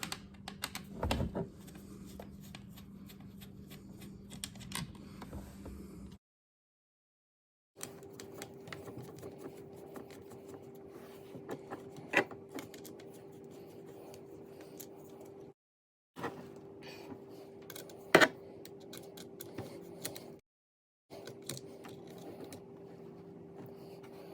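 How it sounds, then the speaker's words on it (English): Screws being backed out of a 2021–2022 Toyota RAV4 Prime driver's-side door panel, with a steady low hum and scattered sharp clicks across several short bursts, separated by brief silent gaps. "I'm going to remove 3 screws here."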